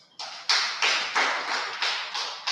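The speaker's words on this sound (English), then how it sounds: "Clap for yourselves." A university audience clapping at a presidential debate, about eight loud, evenly spaced claps ringing close and alone.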